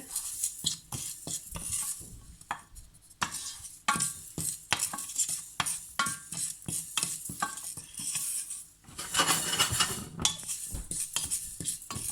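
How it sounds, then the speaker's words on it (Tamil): Prawns frying on medium heat in a pan for a Sri Lankan Jaffna-style prawn curry, with a steady soft sizzle broken by frequent sharp clinks and scrapes of a spoon stirring against the pan, close and continuous. "லைட்டாக மெல்லிய மீடியம் ஹீட்டில் இதை வறுத்தெடுத்து விட்டு"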